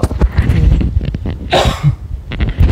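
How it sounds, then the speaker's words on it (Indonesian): Several harsh, bursty coughs close to the mic, a cluster early on, a sharp louder burst in the middle, then more near the end, with no talking. "mohon maaf kalau sering batuk ya"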